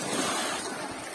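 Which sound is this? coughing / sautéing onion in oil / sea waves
sea waves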